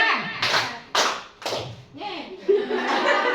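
Group of adults at a school training session clapping a set rhythmic pattern on cue, with several sharp, loud clap bursts spaced about half a second apart, then looser scattered claps and faint voices.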